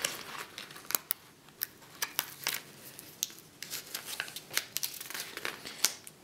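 Application tape being peeled back from a multi-color vinyl decal, a close, dense run of sticky crackling and crinkling that goes on without break, with sharper snaps mixed in.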